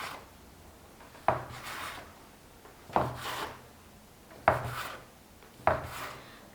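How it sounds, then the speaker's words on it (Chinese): Knife cutting a rolled log of flour-and-water dough into equal pieces on a board, four distinct soft chops spaced about 1.5 seconds apart, each a brief thud with a short scraping tail, close and fairly quiet. "切成大小均等的面剂"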